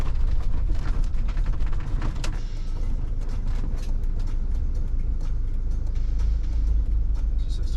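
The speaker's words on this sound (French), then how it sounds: "je vais laisser passer les voitures parce que là, je vais laisser passer les voitures" Cars sweep past a parked camper van near the sea in a steady stream, a continuous loud road roar with several sharper whooshes as individual vehicles go by close to the microphone.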